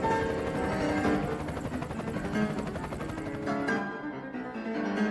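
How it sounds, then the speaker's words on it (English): A helicopter in a British Army roleplay video game comes in to land, its loud, steady rotor chop and turbine whine pulsing continuously without any voices. "Now it's time to land this helicopter."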